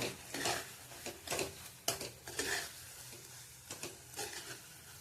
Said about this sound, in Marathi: चवीपुरतं मीठ चांगलं एकत्र करून घ्यायचं आहे